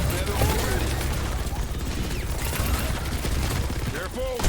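Mauga's guns firing in the video game Overwatch 2: dense, continuous rapid gunfire with mechanical clatter, loud and sustained throughout, with game effects layered over it and talk underneath.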